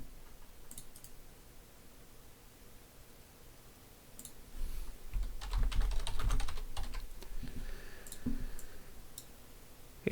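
Quick bursts of computer keyboard typing, a node name being entered, soft clicks at first that build into a denser, louder run of keystrokes, close and without any talk.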